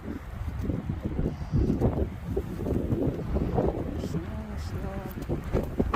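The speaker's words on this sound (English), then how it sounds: "Very windy." Strong wind gusts buffet the microphone during a snowstorm, a loud, steady roar with rumbling surges throughout.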